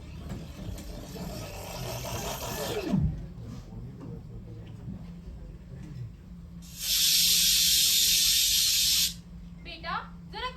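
Pressure cooker on a gas stove releasing steam in a loud, steady hiss for about two seconds, preceded by quieter kitchen sounds and a voice.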